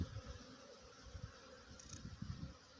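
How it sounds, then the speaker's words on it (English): Honey bees hum and buzz around a hive on a warm morning after several days of rain, a steady low drone with individual insects swelling in and out close by, no voices. "I thought I'd show you what the bees are doing today."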